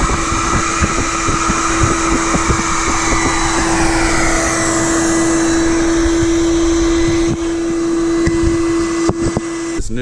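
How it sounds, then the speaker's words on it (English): A loud, steady vacuum whine with a constant drone, running continuously close by, with scattered clicks and thumps as it sucks bees out of a hive during bee removal. "We're going to try to pull it down and then vacuum the rest of these bees out."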